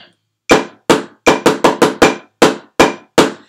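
Sixth-grade school percussion ensemble playing one measure at a medium-loud level: ten sharp, close strikes in a steady pulse, a few quick doubled hits, each decaying briefly before the next, with no talking.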